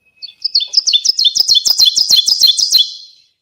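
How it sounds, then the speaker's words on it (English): A woodland warbler sings a rapid run of about a dozen bright, repeated two-part notes that build in strength, heard close and clear against a quiet background. "you're going to mostly hear these birds calling in the woods"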